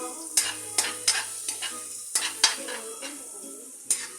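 Onions sautéing in a pan while a stingray coconut-milk dish is prepared, with a soft sizzle broken by a series of sharp spoon scrapes and clacks against the metal, close and distinct.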